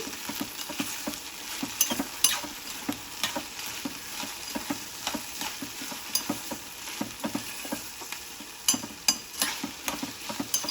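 Okra pieces fry in an open pan under a soft, continuous sizzle, with a spatula scraping and tapping in quick, uneven bursts throughout. No one speaks.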